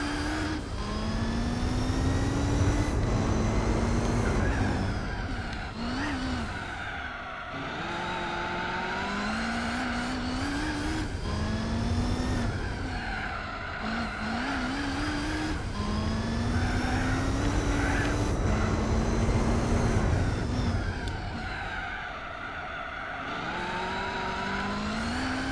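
Race cars in Gran Turismo 4, including a Ford GT, whine through repeated upshifts and downshifts, engine pitch climbing and dropping in cycles over a constant loud drone, with no talking.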